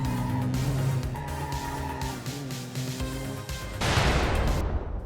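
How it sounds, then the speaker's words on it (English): A car engine drones steadily in BeamNG during a handbrake turn, then a broad tire skid swells in for the final second or so, loud and close, with no talk. "Let's do a bit of a handbrake turn there to show them our skills."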